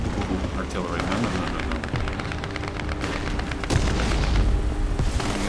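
Artillery fire in the War Thunder tank battle game, heavy booms and rumbling blasts pounding in dense succession, one especially loud near the end, with voices talking over the barrage.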